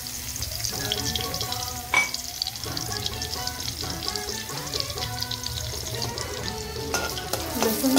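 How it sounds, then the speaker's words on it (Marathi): Four or five crushed garlic cloves frying in hot oil in a wok, a busy sizzle and crackle under repeated scraping strokes of a spatula, with no voices. "लसूण लालसर आपल्याला परतून घ्यायचा आहे मस्त तेलामध्ये"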